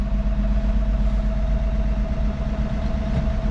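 A 1980 Dodge D100 pickup truck engine runs at a steady, loud idle with a low, constant rumble and no pauses, heard up close.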